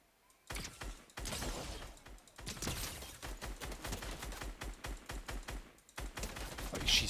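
Rapid gunfire in the video game Fortnite, with dense bursts of sharp shots and impacts crackling in quick succession, moderately loud, broken by a couple of brief pauses.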